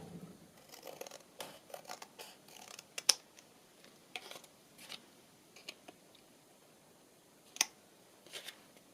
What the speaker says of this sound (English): this paper doesn't quite reach to the bottom, so I'm just going to trim off